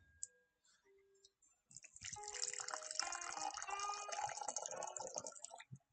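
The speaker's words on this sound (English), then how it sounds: "Except I'm pouring coffee." Coffee poured into a cup close to the microphone, a steady liquid trickle that starts after a few faint clinks and runs for about four seconds with bubbling, gurgling tones.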